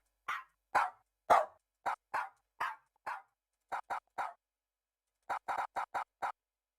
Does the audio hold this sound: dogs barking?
yes